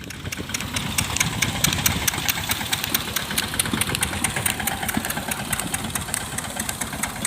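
A tractor engine idles steadily on a farm, a close, continuous low rumble with a fast mechanical ticking that runs unbroken for the whole stretch.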